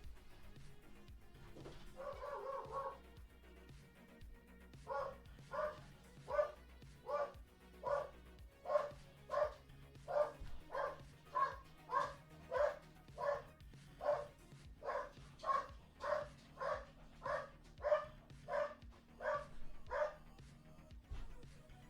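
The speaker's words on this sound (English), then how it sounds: "Woof, woof. Barky bark. Woof, woof." A dog barks in a long, regular series of single woofs, evenly spaced about once every second, moderately close, after a brief short burst near the start, with no talk over it.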